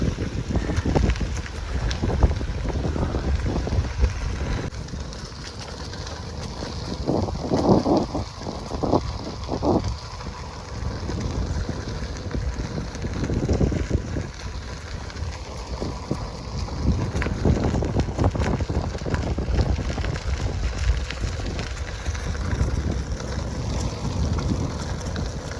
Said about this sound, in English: Wind is pretty strong today.